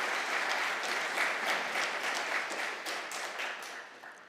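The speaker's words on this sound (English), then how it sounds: "give the President a round of applause for that important statement" An audience at the opening of Namibia's legal year applauds the President, a steady patter of many hands clapping that tapers off softly toward the end.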